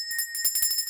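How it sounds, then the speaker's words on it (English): Bright bell rings in a quick, overlapping series of small strikes over about a second, a sustained high tone with clustered metallic jingles, close and fairly soft. "Awkward mutual bell ringing"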